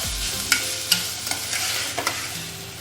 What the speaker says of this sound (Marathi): मंद आचेवर त्याला आपण परतून घेऊ। साखर पूर्ण विरघळेपर्यंत आपण त्याला कंटिन्यू हलवत ठेवूया।